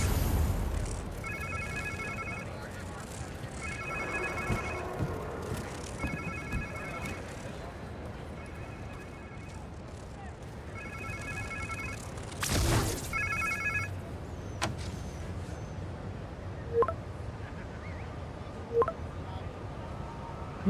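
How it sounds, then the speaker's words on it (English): In Marvel's Spider-Man 2, a phone rings in short repeated electronic bursts, about six rings in a row. A sharp bang and scattered impacts follow, with a voice talking at times. "Sounds like somebody's phone."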